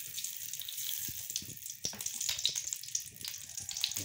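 Ghee, about 100 grams, heats and sizzles in a clean metal cooking pot while a chicken and peas handi is prepared, giving a steady close hiss with scattered small pops throughout.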